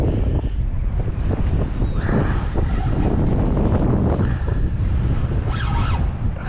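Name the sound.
strong wind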